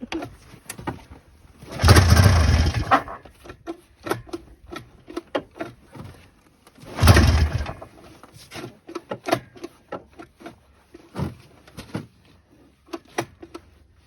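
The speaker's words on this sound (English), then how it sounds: "hopefully the recoil starter doesn't break" SRV 540 engine being pull-started with its recoil starter: two strong rasping pulls a few seconds apart, close by, surrounded by softer clicks and rattles, with pigeons cooing faintly in the background.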